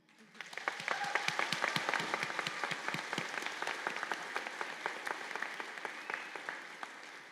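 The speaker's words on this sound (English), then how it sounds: "Now, I think that deserves a loud clap." Applause from a graduation audience at a community college nurses' pinning and candle lighting ceremony, a dense round of many hands clapping that swells quickly and holds steady for several seconds before easing slightly, with no talking over it.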